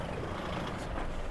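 A truck engine in Euro Truck Simulator 2 rumbles loudly as it is switched off, giving a brief, dense, noisy roar with a hiss near the end, heard alone.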